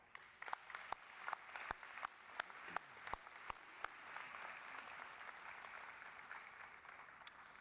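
A graduation convocation audience in a hall starts with a few scattered, sharp claps that quickly swell into steady, distant-sounding applause, faint overall.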